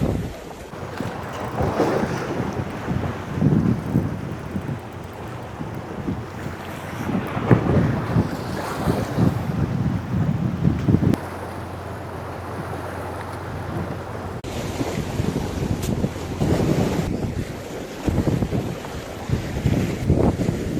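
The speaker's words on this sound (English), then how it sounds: "Oh, big wave. Oh, these waves." Ocean waves breaking on an Adelaide coastline while fishing for salmon, loud rushing surf and heavy wind buffeting the microphone, with surges throughout and no talking.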